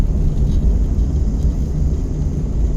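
A car engine in second gear hums with a steady low rumble and whir while driving, loud and close, with no talk over it.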